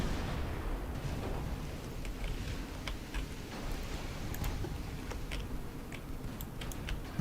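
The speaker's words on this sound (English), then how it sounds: "Another 6 torpedoes off towards the enemy. One verged off course and detonated." Naval battle in the Ultimate Admiral Dreadnoughts game, with a dense, continuous rumble of distant gunfire and explosions and scattered sharp ticking cracks throughout, kept at a moderate level.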